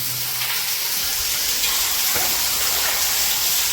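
Water pours and spatters steadily inside a deep stone step well, a dense continuous splashing hiss that echoes throughout with no talk.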